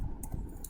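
Keys tapped on a computer keyboard during a kids' coding lesson: a few quick, light clicks spread across a short moment, fairly close but soft, with no talking.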